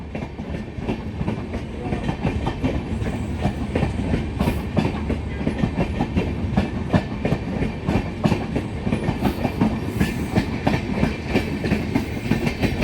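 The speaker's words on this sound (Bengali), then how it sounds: "আর এই মুহূর্তে ট্রেন বেরিয়ে যাচ্ছে, দেখতে পাচ্ছেন।" The Tebhaga Express pulls out of New Farakka Junction, a long train with ICF and LHB coaches including an AC chair car, its wheels beating a steady clickety-clack close by for the whole stretch, loud and continuous, with no voices.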